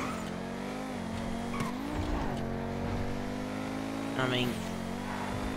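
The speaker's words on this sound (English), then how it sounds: "just listen to the engine. Such a cool car." In GTA 5 Online, a sports car's engine hums steadily with revs rising and falling and brief tire squeals, fairly quiet, while someone says a few words.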